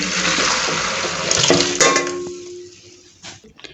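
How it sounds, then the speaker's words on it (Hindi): Chicken yakhni stock being strained: a gush of pouring liquid for about a second and a half, then metal clinks and taps of the strainer and pot as the flow trails off. "गाइस ये देखिए यखनी हम छान लेंगे"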